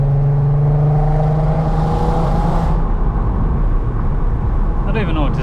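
A VW Golf R32 accelerates hard in second gear with its engine note droning and rising loudly from inside the car, then easing off near the end.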